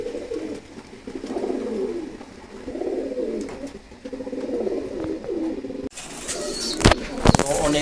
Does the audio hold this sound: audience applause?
no